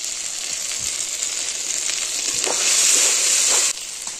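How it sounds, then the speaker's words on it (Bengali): Spice paste frying in oil in a pan while prawn-stuffed pointed gourd is cooked, a steady close sizzle with soft stirring scrapes, growing louder and more intense toward the end. "মশলাটা কত সুন্দরভাবে কষিয়ে নিয়েছি, মশলা থেকে তেল ছেড়ে দিয়েছে"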